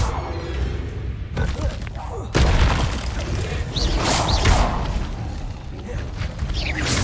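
Incendio fire spell cast in Hogwarts Legacy: a sudden whooshing burst of flame with a heavy thump, followed by a sustained roaring, crackling rush of fire with swooshing magical swirls, loud and close.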